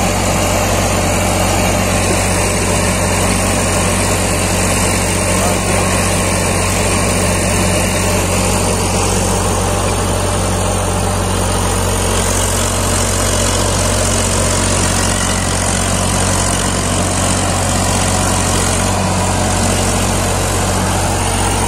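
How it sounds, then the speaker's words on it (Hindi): A heavy Powertrac Euro 50 Plus 55 hp diesel tractor engine with a Sonalika rotavator runs steadily and loudly at close range, with a deep continuous rumble and vibration. "ट्रैक्टर खुल के ट्रैक्टर चल रहा है"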